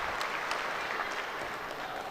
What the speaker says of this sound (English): We're going to hear a big cheer here.